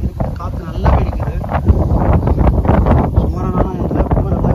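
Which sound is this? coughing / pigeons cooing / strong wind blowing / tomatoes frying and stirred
strong wind blowing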